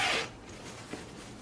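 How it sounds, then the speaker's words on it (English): Zipper on a Dollar Tree craft bag pulled open in one quick, close rasp, then quiet room tone. "there's a zipper right here"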